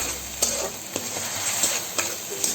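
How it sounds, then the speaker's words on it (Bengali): Spice masala with ginger paste is sautéed in a pan for mutton ghugni, a steady sizzle with a utensil scraping and stirring about every half second, close and without speech. "আদা বাটাটা দিয়েও মশলাটার সঙ্গে ভালো করে কষিয়ে নিচ্ছি।"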